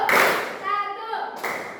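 A burst of group hand clapping in a vocational school class, then a short pause with a voice, followed by another brief round of claps.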